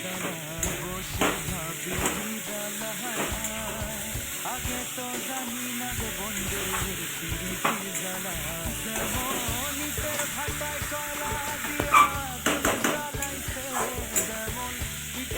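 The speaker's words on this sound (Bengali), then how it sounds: "যখন তেলটা বেরিয়ে আসবে মশলাটার থেকে, তখন বেগুনগুলো দিতে হবে, ভাজা বেগুনগুলো" Fried eggplant pieces sizzle steadily in hot oil and spice paste for tel begun, stirred with frequent scraping clatters of a spatula in the pan; the frying stays continuous and close throughout.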